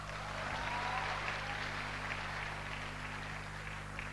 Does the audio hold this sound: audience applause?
yes